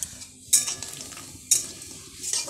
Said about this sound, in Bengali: তারপর আমি বড়িগুলো ভেজে নেব।